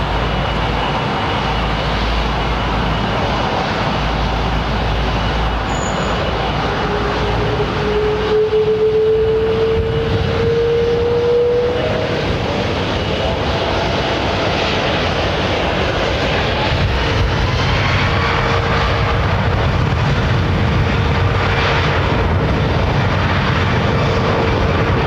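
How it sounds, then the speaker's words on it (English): A powered airplane at London Heathrow Airport roars loudly and continuously as it passes, a steady broad engine rumble and whine holding for the whole stretch with no talking. "Another classic powered aircraft."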